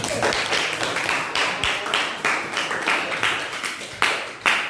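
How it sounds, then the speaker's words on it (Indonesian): A classroom of students claps for a classmate named Adi, brisk scattered handclaps in rough bursts, close and fairly loud throughout. "Beri tepuk tangan buat Adi"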